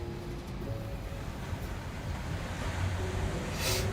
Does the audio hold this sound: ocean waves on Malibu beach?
yes